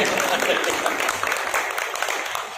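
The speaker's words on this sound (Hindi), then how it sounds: "तालियां दोन जोरदार" A group claps together in dense, steady applause, with some voices mixed in beneath the clapping.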